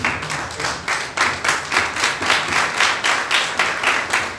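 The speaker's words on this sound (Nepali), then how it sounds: "हामी सँगै उहाँलाई हामी जोडदार ताली बजाएर हामी उहाँलाई स्वागत गर्छौँ" A church congregation gives a warm welcome to the pastor, clapping in unison in a rhythmic, steady beat, several claps per second, fairly close and with no talk.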